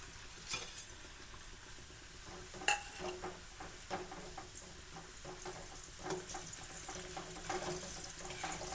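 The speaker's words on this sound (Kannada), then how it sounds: "ಈಗ ನಾನು ಇದು ಬಟಾಟೆ ಕರ್ಕೋತೀನಿ ನೋಡಿರಿ. ಎಣ್ಣೆ ಕಾಯ್ತದ." Potatoes frying in hot oil for a sago snack give a steady, close sizzle with scattered crackles and a few sharper pops, continuing alone without talk.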